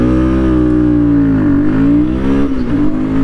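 Royal Enfield Guerilla 450 motorcycle engine pulling hard with a steady loud drone whose pitch climbs, dips at a gear change around the middle, then climbs again, close and continuous with no talk.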